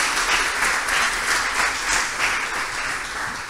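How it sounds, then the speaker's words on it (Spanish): A startup demo day audience applauds a presenter, with loud, steady clapping from many hands that swells and eases slightly over a few seconds and no talking. "un aplauso fuerte para Sora"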